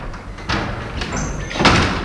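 A few dull knocks or thumps, loud and close, in a radio studio during a comedy radio play, with faint room noise and no clear talk.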